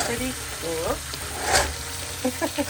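Butter melts in a cast iron pan while a utensil stirs and scrapes it, giving a soft sizzle with rhythmic scraping strokes and a louder sweep near the middle, with no talking.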